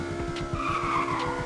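Drifting car in the Roblox game Greenville, shifted with a clutch kick: a steady engine drone with a rising tire-skid squeal that runs throughout the short burst and stays fairly loud.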